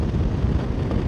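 Wind buffeting a GoPro on a RAM suction mount on a vehicle doing 60 mph on the A50, a constant low roaring rumble with no voices.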